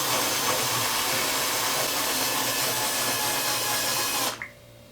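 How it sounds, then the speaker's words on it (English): An electric drill whirs loudly and steadily while mixing epoxy resin, then abruptly cuts out as it dies, leaving near silence. "And the drill is starting to die."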